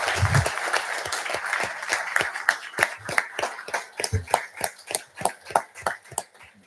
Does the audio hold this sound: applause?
yes